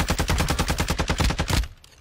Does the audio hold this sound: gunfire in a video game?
yes